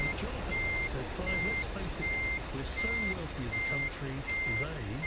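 Truck reversing alarm in Euro Truck Simulator 2 with ProMods, a steady series of loud evenly spaced beeps repeating about six times over an engine rumble, with someone talking throughout.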